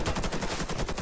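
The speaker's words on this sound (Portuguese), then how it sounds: "Trocou tiro com o Rafa." Automatic gunfire from the online shooter Warface comes in a rapid, even burst of rounds that fills the whole moment, loud and close, with no talk over it.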